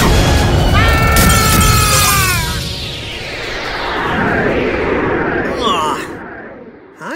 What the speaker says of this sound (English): Neo Blue Eyes Ultimate Dragon. Erase him. Hyper Neutron Blast.